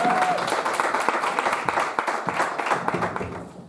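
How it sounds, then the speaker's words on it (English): A church congregation claps for children, a lively crowd of hands with irregular sharp claps and some voices mixed in. "Y'all give them children a hand clap."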